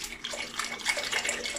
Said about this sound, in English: I'm gonna pour this in while mixing.